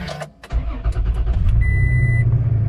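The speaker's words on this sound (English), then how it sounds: "Go ahead and start the truck." A 2019 Toyota Tacoma TRD with the 3.5-liter V6 cranks briefly, then catches and settles into a steady, close idle, with a short electronic chime sounding partway through.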